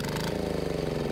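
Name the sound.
196cc diesel engine revving on waste motor oil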